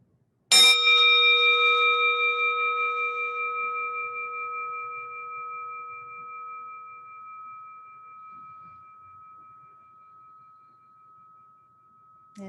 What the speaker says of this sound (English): letting the sound of this chime just carry you over that threshold into a place that is sacred